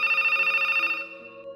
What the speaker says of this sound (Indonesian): tiba-tiba ada telepon bunyi